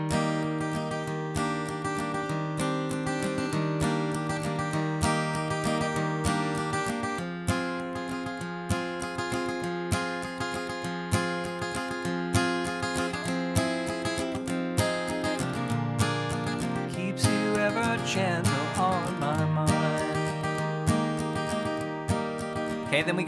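Guitar plays a separate ten-bar section of a song, a steady strummed and picked passage at moderate volume throughout, with no talking.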